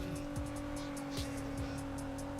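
Racing car engines whine in the Need for Speed Unbound online game, with a sustained high tone and repeated rising sweeps as cars close in and gear up, alone without talk.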